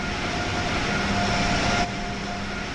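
An Acela Express high-speed train runs in Train Sim World 3, a steady loud rolling rumble with a faint whine that drops off sharply near the end.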